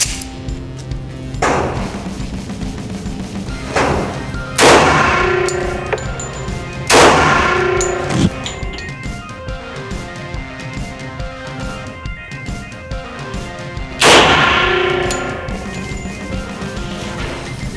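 A 1911 pistol with a compensated barrel fires a handful of loud, close, sharp reports spaced a few seconds apart, each ringing briefly before the next shot.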